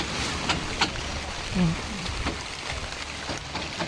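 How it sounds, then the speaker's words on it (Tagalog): Steady rain falls in a dense, hissing wash outdoors near huts, with a few louder drips and a brief voice breaking through. "umulan na"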